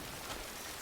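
Steady rain pours without a break in the video game Death Stranding, a soft, even hiss of drops on surfaces that fills the moment with no voices.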